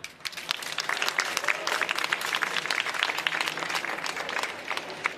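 An audience applauds to welcome author Nora Bossong at the 3sat stand of the Leipzig Book Fair, a steady wash of clapping from a small crowd that carries on evenly for several seconds.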